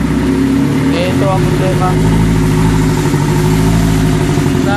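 A Toyota Corolla engine with throttle delay, vibration, low power and blow-by runs rough close by, nearly stalling in a steady, uneven idle while someone talks over it.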